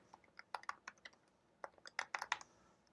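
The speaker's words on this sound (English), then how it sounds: "And then I'm going to type" Fast, faint keystrokes on a computer keyboard, clustered bursts of clicky taps at close range in a quiet room, with a short pause in the middle.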